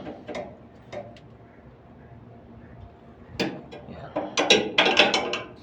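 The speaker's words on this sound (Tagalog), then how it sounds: "So luwagan natin tong mga bolt dito." A ratchet wrench clicks in short bursts while loosening bolts to change a V-belt, near and fairly crisp, with pauses between the strokes and a voice speaking briefly.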